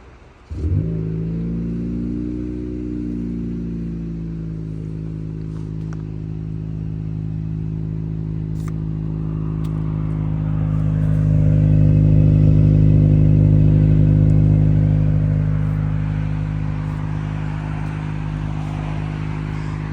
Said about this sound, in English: Might as well do a cold start.